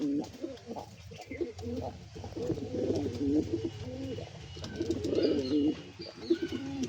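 Pigeons cooing in a hot-weather coop during breeding-season squabbles, continuous overlapping low coos at moderate distance with faint chirps and a few scuffling flutters.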